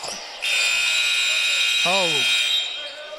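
A college basketball halftime buzzer sounds as one long, loud, steady electronic blare lasting about two seconds, with an announcer's voice briefly heard over it.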